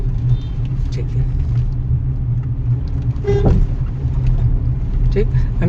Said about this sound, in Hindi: अब जैसे सेकंड गियर में कार चल रही है ना